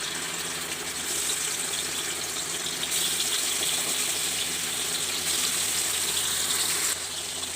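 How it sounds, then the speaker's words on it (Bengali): Hilsa fish frying in hot oil, a steady, loud hiss of sizzling that holds evenly throughout, with no voices. "তেল গরম হয়ে গেছে, মাছটা ভেজে নিচ্ছি।"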